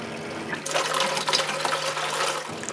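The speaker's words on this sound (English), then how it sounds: "When we'll power up the pump, water will come out of the faucet." Water gushes from a cottage sink faucet once the pump is powered up, a sudden steady rushing flow that starts abruptly and runs loud and close for about two seconds before cutting back.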